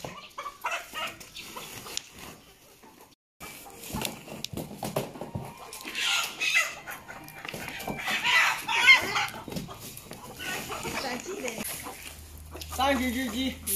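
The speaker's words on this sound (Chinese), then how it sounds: "现在这个母鸡抓好了" Hens clucking and squawking as they are caught on a chicken farm, in scattered, agitated bursts. Handling noise and people talking fill the gaps between the bird calls.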